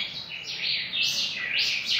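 A young pica hueso bird, a fledgling caught three weeks earlier, sings a run of high, bright chirps and warbling notes close by, filling the whole stretch with no talking.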